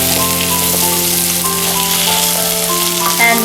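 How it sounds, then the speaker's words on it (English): Potatoes go into a hot kadai of browned onions for a spicy South Indian kadai chicken and sizzle in a loud, steady hiss that lasts throughout, with faint sustained tones underneath. "Now add potatoes."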